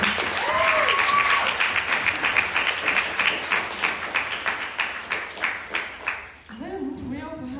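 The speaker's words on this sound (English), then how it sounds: "Please give a round of applause." A panel discussion audience gives a round of applause, a dense run of clapping that swells and then fades after several seconds before a voice begins speaking.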